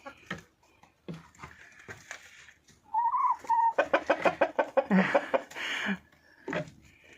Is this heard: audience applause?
no